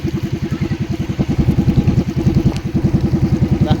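A new motor boat's engine running close and loud, a fast, even chugging pulse that keeps going throughout with no talk over it.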